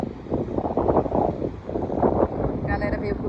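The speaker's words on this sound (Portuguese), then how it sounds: "Tá bastante vento." Strong wind buffets the microphone along the beach promenade in central Bertioga, a steady, loud broadband rumble that swells and dips throughout, with a faint murmur of people in the background.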